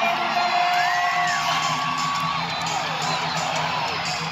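A large rodeo crowd cheers and whoops continuously, with scattered yells and a rising whistle-like shout rising above the roar.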